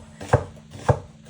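Onions being chopped on a cutting board: two crisp, close knife thuds about half a second apart over quiet background hum.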